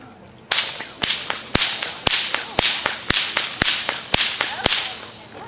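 A bullwhip cracks sharply in a rapid, fairly even series of about a dozen loud snaps, each close and crisp, with no talk between them.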